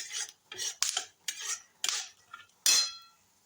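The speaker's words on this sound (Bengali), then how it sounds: "বাদামটা ভাজা চলছে" Peanuts being fried in a pan for a Moghlai paratha meal, stirred in short bursts of scraping, rattling clatter separated by brief pauses, close and fairly quiet.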